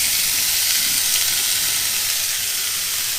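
Vegetables dropped into hot olive oil in a pan, a loud, steady close-up sizzle and hiss that holds evenly throughout with no talking.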